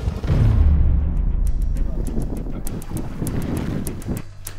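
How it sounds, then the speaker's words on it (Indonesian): Strong wind blows across open sea in the Alas Strait off West Sumbawa during a fishing trip, a loud steady roar of buffeting wind noise with low rumble and faint clicks throughout. "Angin yang bertiup semakin kencang tidak memungkinkan untuk meneruskan battle mancing ini."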